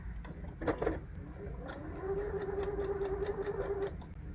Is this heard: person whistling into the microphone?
no